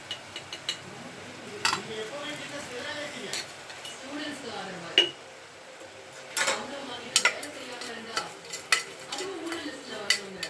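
Onions and tomatoes sauté in a pan for a chicken curry, with a soft, steady sizzle under repeated scraping and sharp metallic clinks of a spoon against the pan, close by.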